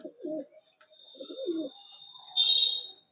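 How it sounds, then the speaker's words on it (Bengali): Pigeons of an Andhra breed coo in a loft, two soft, low, throaty coos in quick succession, while a thin high whistle-like tone runs underneath and swells near the end, fairly close, with no talking. "এগুলো কি বন্ধ দমে পায়রা"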